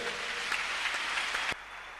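A church congregation applauding together in a dense, even wash of clapping that stops abruptly after about a second and a half, leaving a quieter room hum.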